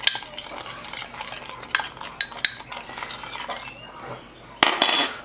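Seasoning with paprika and pepper stirred in a bowl, giving a steady scraping swish broken by sharp clinks of utensil against the dish, close and fairly loud.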